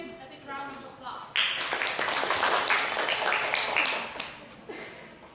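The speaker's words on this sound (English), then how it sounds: "Let's give him a big round of applause." Audience applause for a presenter at a weekly online discussion session, a burst of clapping rising after a quiet start and continuing steadily before tapering off.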